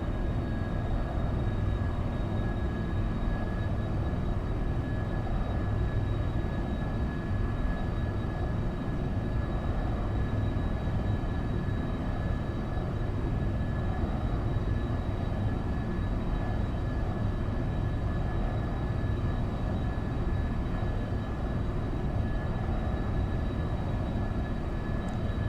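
Boeing 707-120B jet engines roar on a takeoff roll in the X-Plane 12 flight simulator, a loud, constant broadband rumble with a faint high whine held for the full length.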